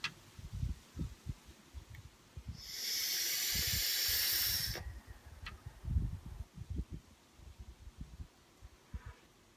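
Steady breathy hiss of a vape drawn through an RTA tank at 60 watts on a 0.32 ohm build, lasting about two seconds and set between soft thumps and handling noise.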